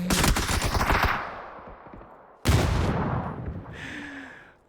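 Loud bursts of rapid automatic gunfire in a competitive video game match, two heavy volleys that each fade out, with a brief electronic tone near the end.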